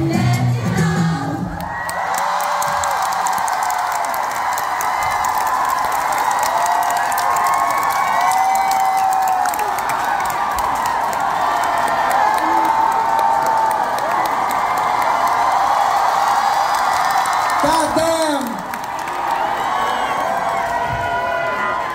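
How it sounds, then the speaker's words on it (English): A large concert crowd at an encore of a live pop performance roars with sustained loud cheering, whoops and applause that fill the space continuously, briefly dipping and swelling again near the end. "You might have been the loudest crowd we've ever performed in front of."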